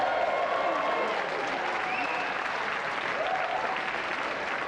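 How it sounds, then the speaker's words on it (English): Studio audience applause for a prize winner on a video games TV show, a steady dense wash of clapping that fills the whole stretch at an even level. "if we just like to give a round of applause again"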